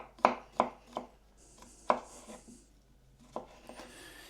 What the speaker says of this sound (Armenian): Հիմա ես բոլորը կտրատեմ